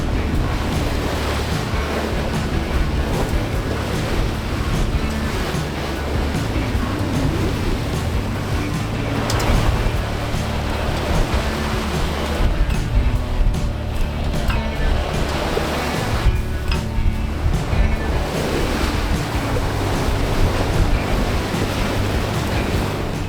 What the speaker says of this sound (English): we relish the sound of displaced water